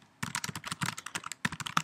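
Rapid typing on a computer keyboard while writing code, a dense run of crisp, close keystrokes with a brief pause before the tapping resumes.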